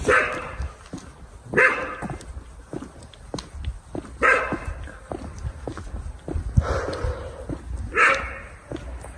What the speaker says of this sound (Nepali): अचानक कुकुर भुक्तिर